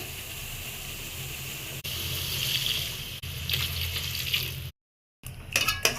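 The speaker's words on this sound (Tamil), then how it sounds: "கால் லிட்டர் தண்ணி ஊற்றி மூடி வச்சிடலாம் வேகட்டும்" Steady running water, about a quarter litre, pours into a cooking pot of lung masala for several seconds, a continuous broad rush that breaks off briefly before resuming with some splashing.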